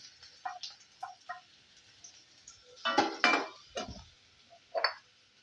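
Curry leaves and capsicum sautéed in a pan for a capsicum poriyal, with scattered clinks and scrapes of a spoon against the pan, a short busier flurry of stirring midway, close and fairly quiet.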